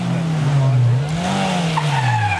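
A rally car overbrakes on a special stage of the Wartburg Rallye 2015 near Krauthausen, and its tires skid with a loud, sustained squeal. The squeal rides over a steady engine drone for over two seconds.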